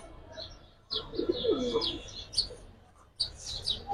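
Giribaz silver and coloured pigeons in a breeding loft give soft low coos amid scattered sharper chirps and bird calls, moderately close, in a few bursts with brief pauses between them.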